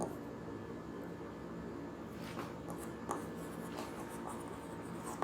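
Marker or chalk scratches steadily across a board during a Class 12 physics lecture on magnetic poles and the magnetic meridian, a faint continuous rubbing with a few sharper strokes over low room noise.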